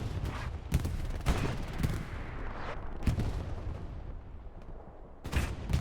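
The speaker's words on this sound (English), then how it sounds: "Artillery hits him on the inside." Distant artillery booms and scattered gunshots in the World War II shooter Hell Let Loose, irregular sharp cracks and heavy thumps rising from a rumbling battlefield background.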